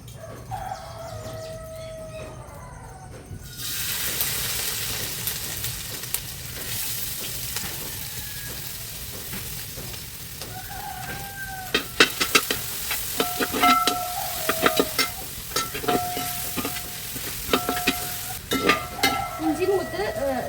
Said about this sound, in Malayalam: അപ്പം ഞാൻ ഇഞ്ചി ഇട്ടിട്ട് ഒന്ന് മൂപ്പിച്ചെടുക്കാണ്ട.